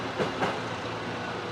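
A JR double-decker train rolls past at a station platform, a steady broad rumble and rushing noise with faint rhythmic wheel clicks, close and continuous.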